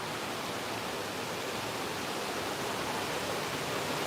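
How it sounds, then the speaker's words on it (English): A distant waterfall near a private Japanese onsen bath gives off a steady, even rushing hiss with no breaks, soft and unchanging throughout. "Do you hear the sound of the waterfall in the distance?"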